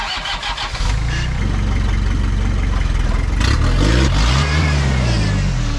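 A custom one-off Toyota Hilux rock crawler on 40-inch Trepador tyres roars close by off-road, its engine rumbling low, then revving harder with climbing pitch and holding a steady, loud drone.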